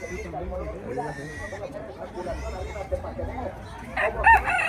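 Chickens and a rooster at a Saturday market day in Tlaxiaco, in Oaxaca's Mixteca region, crowing and clucking amid a busy crowd, with people talking throughout and a louder crow near the end.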